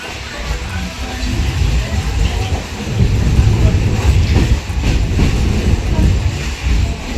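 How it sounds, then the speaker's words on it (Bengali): A passenger train running along a single-line railway track on the way toward Mousuni Island, a steady loud rumble and rattle of wheels that swells from about three seconds and continues throughout, with no talk. "এবার সিঙ্গেল লাইনে ট্রেন যাবে।"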